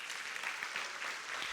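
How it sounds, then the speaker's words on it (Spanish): A church congregation applauds during a service, giving a steady, dense wash of clapping from many hands that lasts the whole moment without a break. "Démosle un aplauso al Señor."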